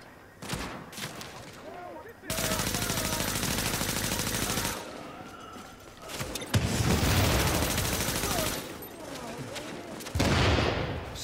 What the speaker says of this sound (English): I'm getting shot from behind me.